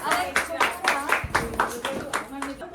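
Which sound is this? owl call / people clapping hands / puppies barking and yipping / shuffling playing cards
people clapping hands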